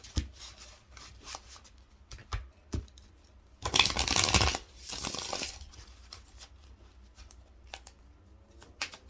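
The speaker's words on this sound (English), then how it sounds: "Okay, one more shuffle for our single Aquarius." Tarot cards being shuffled close by, with scattered taps and flicks and a longer riffling burst in the middle, no talking.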